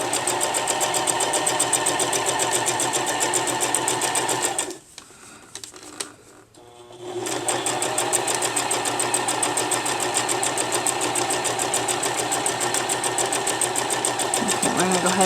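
A sewing machine stitches a sock monkey made from a sock, running steadily and loud, pausing briefly near the middle before resuming its fast, continuous whir.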